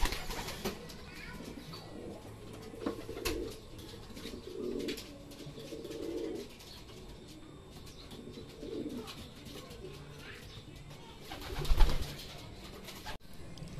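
Racing pigeons coo at a loft during a training flight in Pagsanjan, Laguna, with soft repeated throaty coos rising and falling over a steady outdoor background. A brief louder bump comes near the end.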